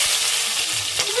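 Mustard seeds, cumin and green chillies hitting hot oil, a loud, close, continuous hiss and crackle of frying with light stirring through the short stretch, no voices.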